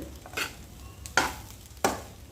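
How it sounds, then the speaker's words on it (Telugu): A spoon scrapes and stirs garam masala and chicken masala through egg fried rice in a pan, three distinct scraping strokes over a faint background sizzle. "ఇప్పుడు బాగా కలిపేసుకుందాము"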